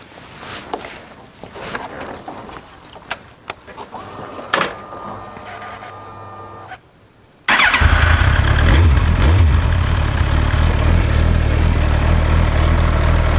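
2007 Suzuki GSX-R 1000: a few quiet clicks and handling noises, a brief hush, then the engine fires up and settles into a loud, close, steady idle.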